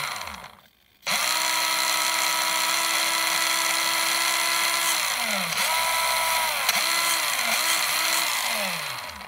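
A Tamiya Grasshopper RC car's 380 electric motor whines at high pitch, nearby and loud, spinning up after a brief pause and holding steady, then dipping and rising again several times.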